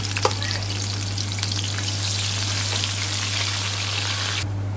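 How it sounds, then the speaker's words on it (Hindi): A medium-sized onion sizzles steadily in hot oil for a kadhi pakora tempering, a loud, continuous frying crackle with a low hum underneath, cutting off abruptly at the end. "अब हम इसका तड़का बना रहे हैं। इसमें सबसे पहले हम एक प्याज डालेंगे"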